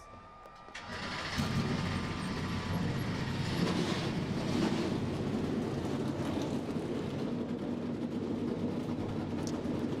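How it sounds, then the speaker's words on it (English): NASCAR Xfinity Series stock car engines fire up together at the Roseanne 300, a rising roar that swells within the first second and settles into a dense, sustained rumble of many engines, loud and steady with no talk. "The engines have fired."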